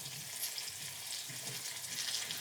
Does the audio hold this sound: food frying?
yes